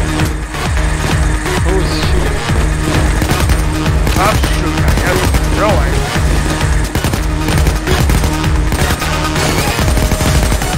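Rapid bursts of automatic gunfire and nailgun shots fill a Payday 2 heist shootout, loud and dense, with voices talking over the constant firing.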